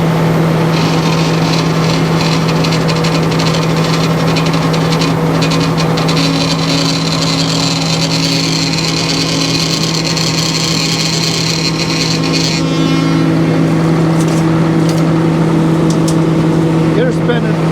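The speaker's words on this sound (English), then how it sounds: "the wet cherry against that saw was making a crazy noise" Sawmill blade cutting through wet cherry logs, a loud, continuous mechanical drone with a strong steady hum and a high grinding whine that cuts off partway through while the motor keeps running.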